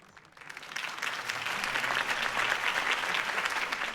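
Crowd applause in the video game Batman - The Telltale Series, a steady wash of many hands clapping that swells quickly and holds at an even, fairly loud level throughout.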